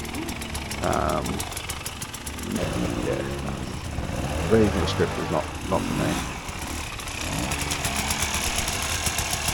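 A motorbike engine idles and rumbles steadily throughout while someone talks over it, the engine noise staying loud and close.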